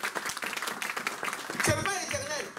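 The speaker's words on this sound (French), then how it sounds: "Donnons quand même une acclamation." A church congregation claps and cheers at a sermon, faint scattered applause mixed with crowd voices and a raised shout partway through, fairly distant and low in level.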